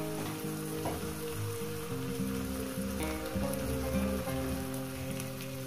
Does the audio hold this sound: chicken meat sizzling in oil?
yes